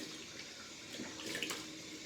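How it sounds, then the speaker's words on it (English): Hot water runs from a tap and splashes as it is put on a face before shaving, a faint, continuous, gentle rush with small splashes near the end. "gotta put some hot water up on my face"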